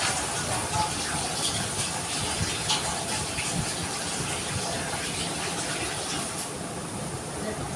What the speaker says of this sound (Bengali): আমি একদম পিউরিফাই জল দিচ্ছি